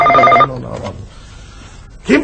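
A telephone rings in a short, bright electronic burst at the start, then fades into a quiet room before a voice briefly speaks.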